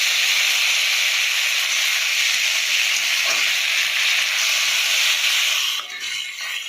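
Curry leaves hit hot oil already holding mustard seeds, dried red chillies and cumin, giving a loud, close, continuous sizzle that stays strong before easing slightly at the end, with no voices.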